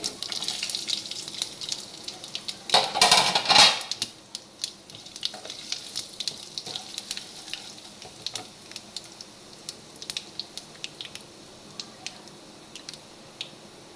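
Sesame, fennel, asafoetida, whole chillies, cumin, mustard seeds and turmeric hitting hot oil, a sharp sizzling burst followed by crackling pops and spatters that gradually thin out, close and moderately loud.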